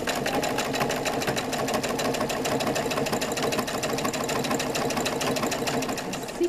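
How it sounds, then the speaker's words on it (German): Sewing machine stitching the seam of a fabric shopping bag within a 0.5 cm seam allowance, a steady fast mechanical chatter running loud and close without pause. "ihr näht innerhalb der Nahtzugabe"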